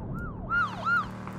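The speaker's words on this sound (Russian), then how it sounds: "У нас ментовская тачка." Police car siren in the video game PUBG, a wailing electronic tone sweeping up and down in two quick cycles over low engine rumble, loud and close.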